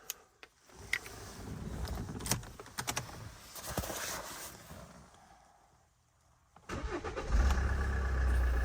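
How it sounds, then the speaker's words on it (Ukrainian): A 2013 Hyundai Santa Fe with a 2.2 diesel engine and automatic gearbox is started near the car after some clicking and handling sounds; the engine catches loudly toward the end and settles into a steady idle. "Зараз запустимо автомобіль."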